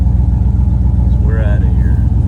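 A race car at a drag-racing event rumbles loudly close by, its low engine pulse steady, with a brief rising rev in the middle before it settles back.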